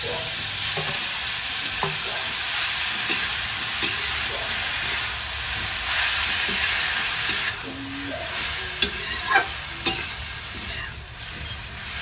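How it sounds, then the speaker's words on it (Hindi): Continuous loud sizzling and frying hiss of bottle gourd in ghee, with occasional stirring clinks and scrapes of a utensil in the pan. "फिर लौकी डालकर अच्छे से छौंक देते हैं"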